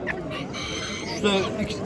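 A rooster crows loudly and close at a busy poultry market, amid clucking fowl and people talking nearby.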